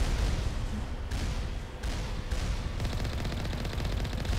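Turrets in Mass Effect Legendary Edition fire continuous volleys at a Mako vehicle, a steady dense barrage of shots with a few sharp breaks, loud and without talk.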